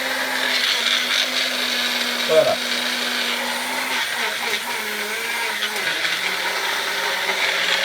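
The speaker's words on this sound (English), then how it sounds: "Let's blend this now." A kitchen blender whirs steadily as it purees chunks of cucumber, a loud continuous motor drone with a brief pitch shift partway through, while a person speaks briefly over it.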